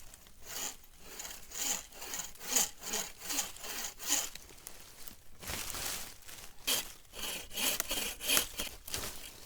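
A hand saw rasps back and forth through a dense log, damp on the outside, outdoors on a mountainside campsite, in steady close strokes with a few pauses.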